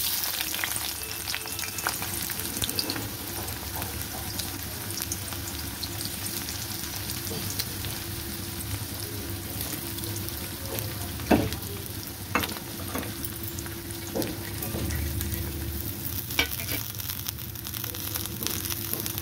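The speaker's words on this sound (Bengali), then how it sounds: "দিয়ে এবার এটাকে ভালো করে ভেজে নেব পেঁয়াজটাকে" Sliced onions sizzle steadily in hot oil with a pinch of salt and turmeric, a dense close frying hiss broken by a few sharp clicks of stirring, with no voices.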